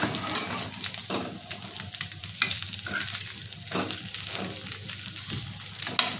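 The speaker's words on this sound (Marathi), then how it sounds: "आपण पलटी करून दोन्ही बाजूने त्यांना क्रिस्पी असे फ्राय करून घ्यायचे आहेत" Mixed vegetable rice cutlets fry in oil until crisp and get flipped, making a steady close sizzle under scattered scraping and stirring clatters of a utensil, with no talk.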